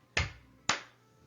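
Two sharp, separate hand claps about half a second apart, close and crisp, each ringing briefly in a quiet room, marking the two syllables of a spoken word.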